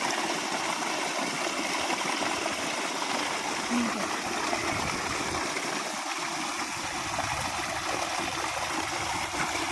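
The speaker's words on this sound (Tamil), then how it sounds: "மோட்டர்லேருந்து தண்ணி எப்படி சூப்பராக போகுது பாருங்கள்" Water gushes from a motor pump into a channel flowing onto a sugarcane field on a farm, making a close, steady rushing and splashing roar that stays constant throughout, with no distinct talk.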